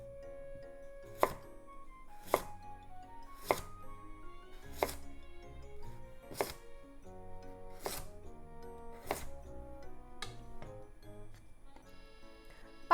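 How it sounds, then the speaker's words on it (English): A knife cuts diagonal slices through a Japanese sweet potato (satsumaimo) on a board, with about ten crisp, evenly spaced chops over a quiet, close background. "make diagonal slices."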